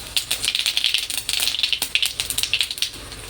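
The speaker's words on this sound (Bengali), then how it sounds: "ফোড়নে দেবো একটুখানি শুকনো লঙ্কা অল্প করে, আর দেবো একটু জিরে" Dry red chili and whole cumin seeds tempering in hot oil, giving a steady close crackle of dense popping and spitting sizzle for the whole stretch, with no talk over it.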